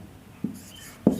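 Chalk or pen marks made by hand during a Class 10 maths lesson on real numbers, heard as two short separate strokes about half a second apart, quiet and close, with no talking over them.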